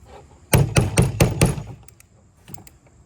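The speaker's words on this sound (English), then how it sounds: "So I'm gonna take a little hammer to it." Five quick, close metallic taps from a small hammer on a fuel injector in a fast even burst, followed by a few fainter light clicks.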